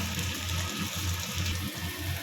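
Hot water pours steadily from a jug into a pan of hilsa fish curry with potato and eggplant, a continuous close splashing and gurgling with a low rhythmic churn, heard alone without talk.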